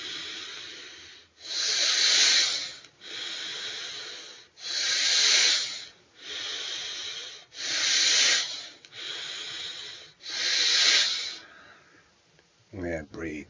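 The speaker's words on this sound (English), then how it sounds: "Then you start breathing." Deep breathing during a prana breathing exercise: long, loud rhythmic inhales and exhales alternating roughly every second or so, airy and close, about eight breaths before a brief pause and a faint voice at the end.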